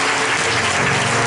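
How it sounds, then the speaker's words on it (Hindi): A church congregation claps loudly and continuously for Jesus Christ during a Hindi-language worship service, a dense, even wash of applause from many hands filling the whole moment. "एक बार जोरदार यीशु मसीह के लिए ताली बजाएंगे,"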